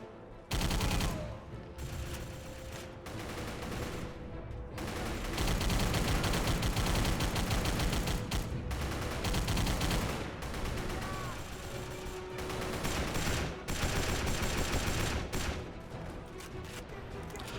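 Video game gunfire mows down a line of enemies in sustained, dense bursts of automatic shots and heavy booms, with a few brief pauses between volleys.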